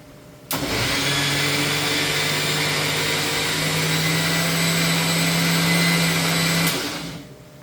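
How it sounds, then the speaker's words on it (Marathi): Kitchen mixer grinder blending curd for kadhi, switching on abruptly with a loud steady motor whine and hum that holds for about six seconds and then cuts off, leaving quiet. "एक मिक्सरमध्ये मी काढून घेते"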